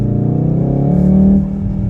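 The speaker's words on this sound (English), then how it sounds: "The fake noise that comes into the cabin is quite good." Synthetic engine note from a 2019 VW Golf R Mk7.5 hot hatch piped into the cabin, a steady low droning rev that swells briefly and then eases off, heard from inside the car.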